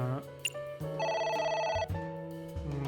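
A telephone rings in the video game AI The Somnium Files, a bright electronic trilling tone pulsing in a rapid repeated pattern over a sustained synth music bed, persistent and clear.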